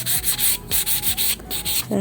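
An acrylic putty heart is sanded by hand in quick back-and-forth strokes, each a bright scratchy rasp, repeating in a steady rhythm up close with no talking.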